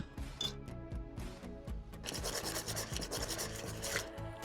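Whisk stirring brown sugar, cinnamon, ginger and raisins in a bowl, a close, steady scraping and rasping rhythm that grows busier and louder partway through, with no talking.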